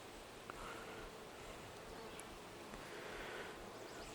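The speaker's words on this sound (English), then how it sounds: "Feels like there's more bees in here now." Honey bees inside a nucleus hive give off a soft, continuous buzzing drone, close but faint. Now and then a single bee flies past a little louder, with no voices over the sound.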